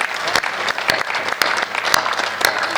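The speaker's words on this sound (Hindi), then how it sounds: "कुछ लोग बीच में खड़े होकर तालियां बजा रहे थे" An audience at a patriotic poetry recitation about Maharana Pratap claps loudly. The applause is dense, steady and continuous and fills the whole moment, with sharp individual claps standing out.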